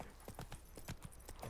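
Quick, light hoofbeats of a horse clip-clop in The Witcher 3: Blood and Wine, a brief rhythmic patter of several close strikes.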